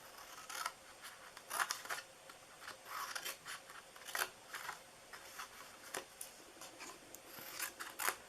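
Scissors snip through card stock to trim a DIY fall treat box, a steady run of close, crisp cuts and rasping slides repeating at an even pace, with no voices.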